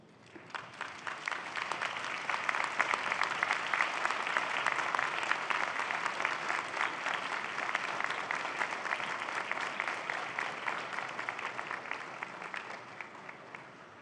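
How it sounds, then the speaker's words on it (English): At a spring university convocation, graduates applaud their families and friends in a large hall. The applause swells up within the first seconds, holds steady and dense, then tapers slightly toward the end, with no talk over it. "give them a warm round of applause for supporting your journey"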